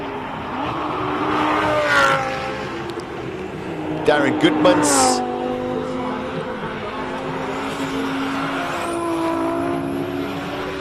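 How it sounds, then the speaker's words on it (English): A modified Audi race car engine revs and whines with rising and falling pitch during a hill climb, turbo whooshes and a brief loud burst midway, while a commentator speaks over it. "you can just hear everything happening with the turbo there"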